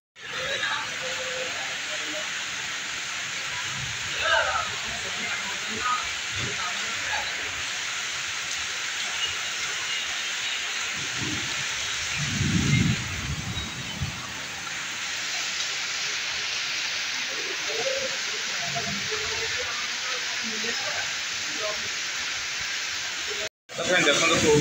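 Heavy rain pours down near a college in a dense, unbroken hiss, while faint, muffled voices rise briefly beneath it.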